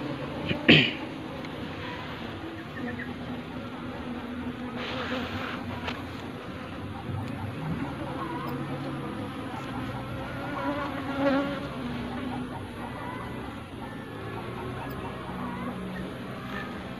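Steady insect buzzing fills the whole stretch, a dense hum of many bees close by around a hive, with a brief sharp knock near the start.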